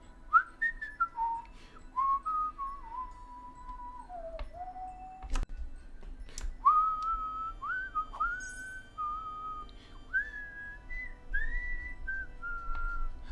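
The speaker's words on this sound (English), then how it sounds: "Oh, I can teach you to whistle." A person whistles a wandering melody close by, made of sliding, warbling notes in two phrases with a short pause between them, over quiet background ticks and a faint low hum.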